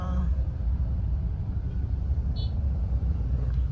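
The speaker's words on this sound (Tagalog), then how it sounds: "Wala, medyo ma-traffic siya." Steady road traffic rumbles nearby as cars pass along a busy street, a low continuous drone with faint tire and engine noise and a short high tone partway through.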